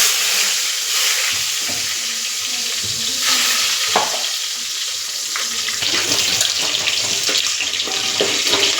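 Onion fries with cloves, cardamom, cinnamon and fennel in a hot pan, a continuous loud sizzle with scattered scraping stirs and clatters, close and dense with no voices.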